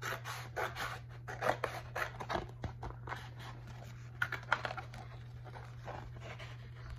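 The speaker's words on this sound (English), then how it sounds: "So I'm gonna cut this excess paper off." Scissors snip away excess paper during a Cricut infusible ink project, a run of crisp close cuts and scratchy paper sounds over a steady low electrical hum.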